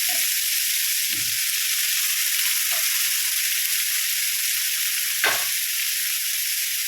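Bitter gourd frying in a hot pan gives off a steady, loud sizzle that runs the whole time, with a few soft knocks as the pieces are stirred.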